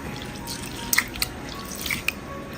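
Water is poured over washed urad dal to soak it for idli batter, a close, quiet trickle with a few bright drips and splashes over about two seconds, no talking.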